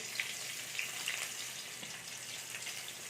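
Chopped onions and green chillies fry in a pan with a soft, steady sizzle and scattered light crackles, close and fairly quiet, with no talking.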